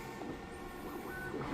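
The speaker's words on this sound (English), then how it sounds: "I'm printing PLA right now." A 3D printer running a PLA print, heard as a steady, continuous mechanical whir and hum with faint stepping tones throughout, no talk.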